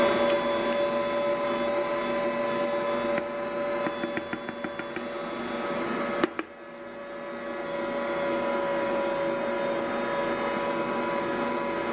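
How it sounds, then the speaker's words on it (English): A stand mixer runs steadily while kneading homemade white bread dough, a continuous whirring hum with a brief knock partway through; no talk. "Now with my mixer running,"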